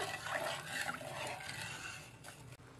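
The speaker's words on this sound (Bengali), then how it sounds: "এবার চিনি কিন্তু জলের সাথে ভালোভাবে নেড়ে চেড়ে একদম গলিয়ে নেব" Sugar being stirred into water in a bowl to dissolve it for laddu syrup, a steady liquid swishing and scraping that runs continuously without pause and sits fairly close, with no voices.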